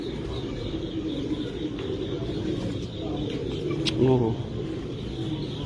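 A pigeon held in the hand coos softly amid ambient noise and nearby talk, with a short, clearer throaty coo standing out near the end.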